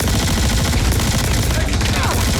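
Sustained rapid gunfire from a weapon in the video game Star Citizen, a loud dense stream of rounds filling the whole moment with continuous crackling bursts.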